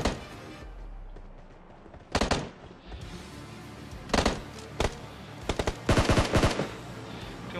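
Gunfire in PUBG Mobile, several sharp bursts of automatic shots separated by quiet gaps, with a rapid cluster toward the end, loud and close, no talk heard.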